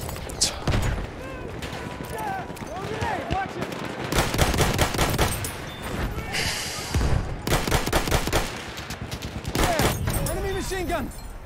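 Rapid machine gun bursts and scattered gunshots crackle through a Battlefield 1 firefight in the Argonne Forest, loud and nearly continuous, with shouted voices cutting in between the volleys.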